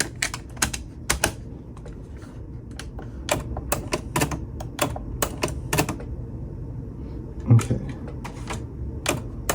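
TASCAM 424 cassette deck mechanism with its auto stop kicking in, a series of sharp mechanical clicks and clunks at irregular intervals over a low hum, close up, with one brief spoken word.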